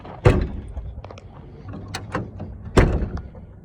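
A Jeep Wrangler YJ door pulled shut with a strap-type handle gives two sharp, loud slams about two and a half seconds apart, with softer latch and handle clicks between them.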